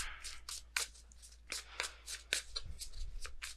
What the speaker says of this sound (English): Let me get one more card for this.